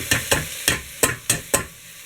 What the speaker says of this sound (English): Now what we've done is just rinse the lentils under tap, so we're going to put them straight in.